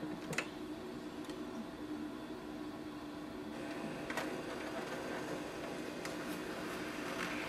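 An HP DeskJet 4220e inkjet printer runs a scan, giving a steady low mechanical hum with a few faint clicks and ticks spread through it, close by and without talk.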